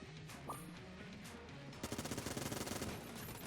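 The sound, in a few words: Vulcan Cannon gunfire in video game Enter the Gungeon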